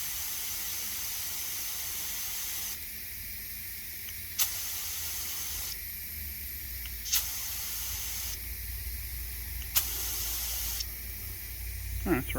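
Air hisses out of a car tire valve in a steady, close rush, broken into repeated bursts with brief clicks between them.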